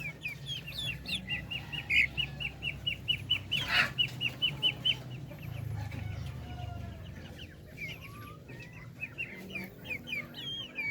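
Two roosters kept as backyard poultry cluck in quick repeated bursts, fairly close and steady, with a brief flap of wings partway through and a quiet outdoor background.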